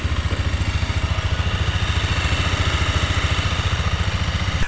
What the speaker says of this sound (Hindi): बाइक की स्टार्ट हो गई है।